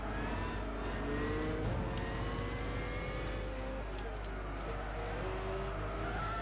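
A race car engine in Gran Turismo 6 on the Apricot Hill circuit drones loudly and continuously, its pitch climbing and dropping with shifts and throttle changes.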